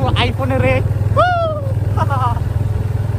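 A motorcycle being ridden on a road, its engine a steady low throbbing rumble running beneath someone talking the whole time.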